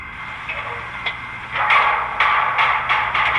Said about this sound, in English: That's the sound of the hatch being open